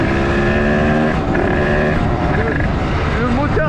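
A car engine runs steadily while driving, a loud continuous rumble and hum with shifting tones throughout, and someone talks over it.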